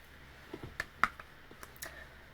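A few soft, scattered clicks and light taps of tarot cards being shuffled, fairly quiet and irregular over a faint background hiss.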